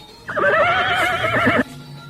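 A horse neighs in one loud, close whinny of about a second and a half, with wavering high pitch, heard alone at night after a rider dismounts during a roadside stop.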